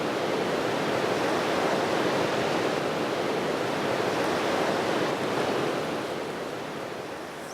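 Waves and surf break steadily on the North Sea side of an island coast, a rough sea heard as dense continuous wash with rolling swells, loud and close, easing slightly at the end with no voices.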